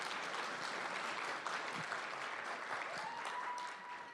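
An audience claps steadily and densely throughout, a sustained wash of applause at a political talk that tapers slightly toward the end, with no speech over it.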